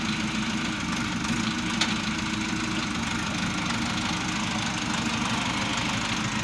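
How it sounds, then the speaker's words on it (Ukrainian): Orion 404 tractor engine running on a test drive, a steady, loud, rumbling diesel drone with a constant knocking throb and no pauses, no speech. "Тепер перейдемо безпосередньо до тест-драйва."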